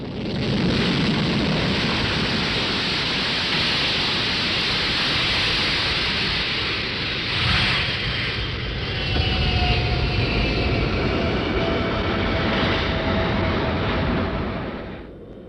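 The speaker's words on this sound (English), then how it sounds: "French Concorde, which had left Paris on a synchronized arrangement with its British counterpart, lands first." A loud, sustained jet roar of a French Concorde airliner landing in New York in 1977 dominates, with a broad rumbling wash that swells slightly and fades near the end.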